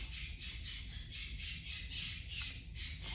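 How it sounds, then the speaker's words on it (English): A loud pet parrot squawks indoors in a steady run of harsh, raspy calls, with one sharper cry standing out near the end. "I have a very loud parrot and there's no stopping her"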